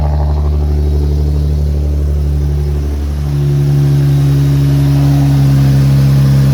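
Loud, steady idle of a Nissan 370Z engine, a close, continuous rumble with a strong low hum that holds throughout with a slight dip in pitch midway.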